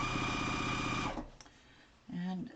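A sewing machine runs steadily for just over a second, stitching quilt pieces for a Farmer's Wife quilt, then stops; after a pause, a short machine-like hum follows.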